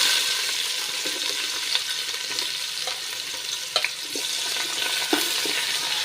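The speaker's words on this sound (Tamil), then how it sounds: "வெங்காயத்தை நல்லா ப்ரௌனாக வர வரைக்கும் வதக்கி விட்டுக்கோங்க" Four lengthwise-sliced onions fry in hot oil for a mutton dum biryani, a continuous close hiss and crackle with occasional sharper pops and stirring clinks, no talk.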